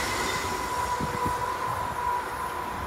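A British Rail Class 380 electric train bound for Glasgow Central rolls through Cardonald station, a steady close rumble of wheels on rails with a faint thin squeal above it, continuous from start to end.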